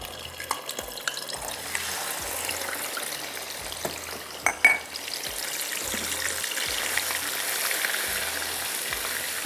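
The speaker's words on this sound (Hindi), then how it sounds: "गोश्त को इसके अंदर घी के अंदर थोड़ा भून लीजिएगा" Mutton frying in ghee with ginger-garlic paste for degi korma makes a continuous crackling sizzle, with scattered stirring knocks and one brief louder clatter midway.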